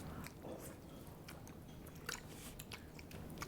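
Close, moist biting and chewing on a brown sugar bubble pizza dessert, a soft steady mastication broken by a few sharper crunchy bites.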